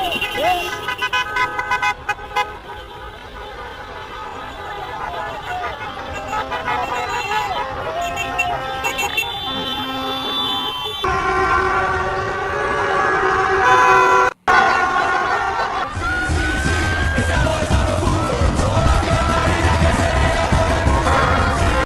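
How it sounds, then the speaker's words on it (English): Car horns honk repeatedly and overlap in Colombian streets during a nighttime election celebration, loud and continuous with traffic rumble, shouting voices mixed in and a sharp cut partway through. "all the honking and fireworks that are happening right now"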